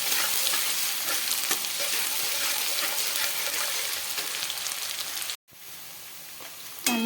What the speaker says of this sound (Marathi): कांदा हा लालसर रंगाचा होईपर्यंत आपल्याला तळून घ्यायचा आहे आणि तो सुद्धा कमी फ्लेमवर तळायचा आहे